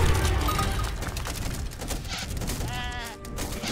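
A single sheep bleats near the end in an Aztec versus Japan video game match, a short wavering cry rising over a dense, busy backdrop of game sounds and rumble.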